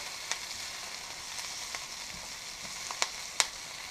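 Kale fries with a steady broadband sizzle in a pan, with a few sharp clicks and scrapes as it is stirred, close and moderately loud, with no voices.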